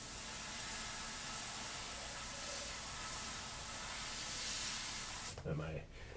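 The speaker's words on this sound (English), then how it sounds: "That my airbrush is working, and it is." An airbrush sprays a steady, loud hiss of air as a test before stenciling custom graphics, sounding continuously for several seconds and then cutting off in a few short sputters near the end.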